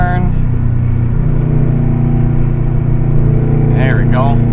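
A stock 2005 Subaru Impreza WRX STI engine held on throttle through turns, a loud steady drone heard from inside the car, with a voice talking briefly over it.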